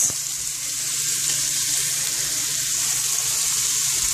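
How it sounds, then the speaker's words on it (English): Skirt steak pinwheels searing in a hot pan give a constant, even sizzle and hiss, close and steady throughout, with no voices. "Cooking nicely. Nice sear on them."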